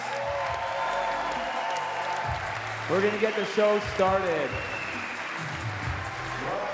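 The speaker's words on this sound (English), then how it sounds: "can we please give one more round of applause to our athletes?" Applause for freestyle trampoline athletes at a world championship event, a broad crowd wash heard under an announcer's amplified voice as he talks.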